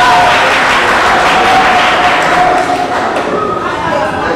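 An audience applauds at a book signing ceremony, a steady, dense wash of clapping that runs throughout and thins slightly toward the end.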